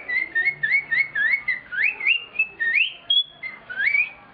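A man whistles an imitation of a sabiá thrush: a steady run of short, rising melodic phrases, clear and close, repeated about a dozen times with no talking.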